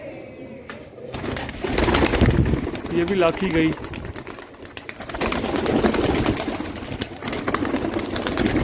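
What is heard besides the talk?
pigeons cooing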